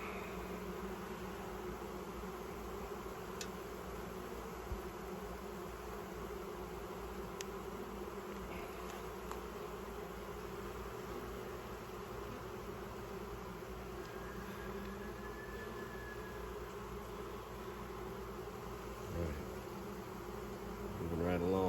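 Honey bees buzz around an open hive frame at a new homestead hive, a steady dense drone that holds for the whole stretch, fairly close and even, with no talk.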